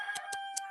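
A backyard flock chicken clucks three quick, short times in under a second, close but fairly soft, over a faint steady background hum.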